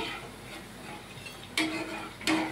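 Bottle gourd fritters fry in hot oil, a soft steady sizzle broken by two sharp clinks of a metal utensil against the pan.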